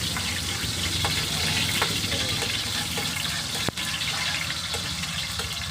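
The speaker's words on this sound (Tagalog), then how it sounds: "Gigisahin muna natin." Pork sautéing with garlic in a wok for chopsuey gives off a loud, continuous sizzle and hiss, close by, broken once by a sharp clink of a utensil.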